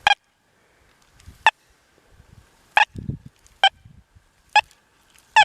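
An XP Deus 2 metal detector sounding over a dime with foil on the surface, giving short sharp tone bursts repeated about six times at irregular intervals, with faint rustling in between.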